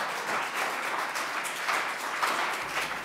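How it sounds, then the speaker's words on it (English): A lecture audience applauds as a speaker is welcomed to the stage, a soft, steady wash of distant clapping that holds for about three seconds. "Shall you please help me give Tracy a round of applause as she comes up?"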